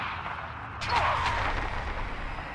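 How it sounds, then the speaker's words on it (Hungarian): Explosion in the video game Just Cause 3: a sudden boom bursts about a second in, followed by rumbling, crackling debris that decays slowly over a low background. "Ez a robbanás hirtelen olyan, mint ami hangrobbanás lenne."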